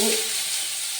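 Mustard seeds and garlic sizzle in hot oil for rasam, a steady close, loud frying hiss with a brief crackle at the start and no talk.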